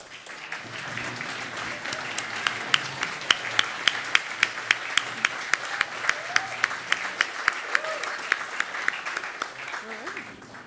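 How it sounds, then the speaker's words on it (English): Audience applause at an awards ceremony as sponsors stand to be recognised, a steady sustained wash of many hands clapping with a few sharper individual claps standing out, filling the whole stretch. "will all of our sponsors please stand so we can give you a round of applause"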